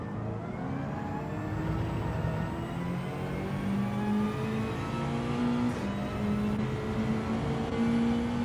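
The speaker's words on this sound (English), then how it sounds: "Look at the Veyron go." A Bugatti Veyron accelerates hard in Gran Turismo 7, its engine note climbing steadily in pitch through a long pull with a brief shift, loud and continuous with no talk.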